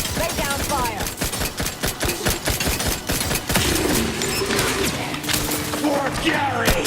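Rapid gunfire from The Outer Worlds 2 crackles in dense, loud bursts of shots, with game voices heard at the start and end.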